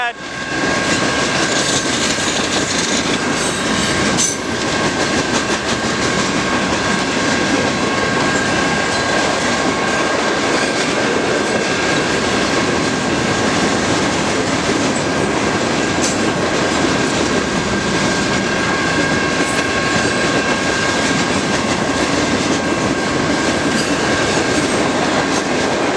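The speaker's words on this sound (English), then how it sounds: "Yeah, the train's down there." A Norfolk Southern mixed freight train passes the Harrison Avenue railroad crossing in Trenton, Michigan, a loud continuous rumble of railcars with clattering wheels and a steady crossing bell tone, with a person talking briefly.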